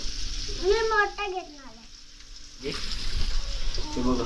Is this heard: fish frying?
yes